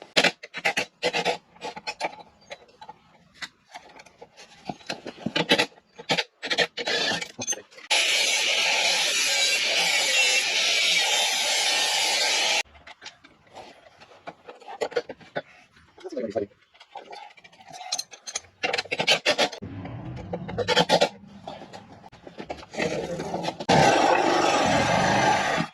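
Metalworking on the fender of a vintage Heathkit Hiltopper mini bike, with bursts of rasping grinding or filing, including a long steady stretch and several shorter passes, broken by pauses, knocks and handling noise.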